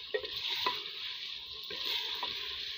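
Potato, cauliflower and chicken stir-fry in a pan with a steady, soft sizzle, and a spoon scrapes and stirs now and then, close and alone with no voices.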